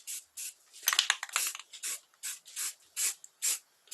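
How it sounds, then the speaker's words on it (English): A spray can of black primer, its nozzle partly clogged, hisses in about ten short rhythmic bursts onto Chevrolet C4 heater tubes, close and fairly quiet with no talking. "see how we're going to spray this up."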